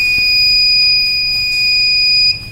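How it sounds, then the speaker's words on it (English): An ESP32 health monitoring system's buzzer alerting for high temperature, a loud, piercing continuous electronic tone that holds steady, then cuts off abruptly near the end. "So that's why continuously buzzer is alerting, and at the same time message alert you will get."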